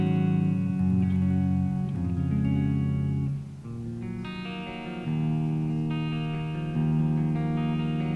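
Clean electric guitar chords ring out with a spacious reverb tail, sustained notes blending into one another, loud and close throughout.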